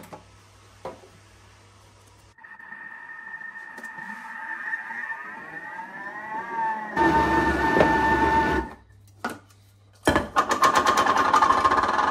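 A blender whirs in bursts while mixing flour in a closed container for sfouf, with a rising motor whine, a louder grinding stretch, brief pauses and a final loud run.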